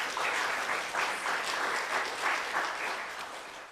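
An audience claps after a poem is read at a literary reading event, a dense, sustained wash of applause that swells in waves and tapers slightly toward the end.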